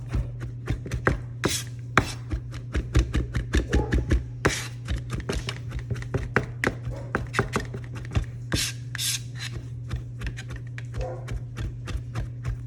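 Cilantro leaves roughly chopped with a knife on a cutting board, a rapid series of crisp close taps in uneven bursts over a low steady hum, with no one talking.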